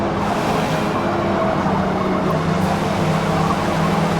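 Race car engines roaring together in a Forza Motorsport D Class lobby race behind a Porsche 550, a dense, loud, continuous growl of several cars with a steady engine pitch.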